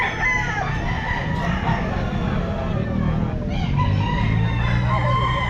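Roosters crow and fowl cluck at the Black Pumpkin grotto pet market, where stags and black-skinned birds are on sale, amid continuous crowd babble and market noise, with the calls close and fairly loud.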